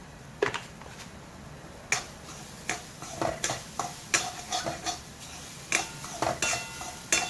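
Broccoli and paneer stuffing is stirred in a pan, with repeated irregular clicks and scrapes of a utensil against the metal over a faint low sizzle.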